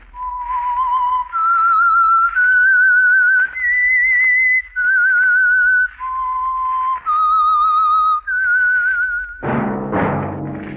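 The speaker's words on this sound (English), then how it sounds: "That whistle is your signal for the Signal Oil program, The Whistler." A lone whistler carries the melancholy signature tune of The Whistler, a Signal Oil radio mystery program, in clear sustained phrases that step up and down, before a burst of orchestral music enters at the end.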